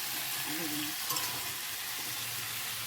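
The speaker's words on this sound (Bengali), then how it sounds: "একটুখানি রাঁধুনি ফোড়ন দিয়ে" Radhuni spice seeds crackle and sizzle as a tempering in hot oil, a steady, fairly soft frying hiss with a brief faint clink near the middle and no voices.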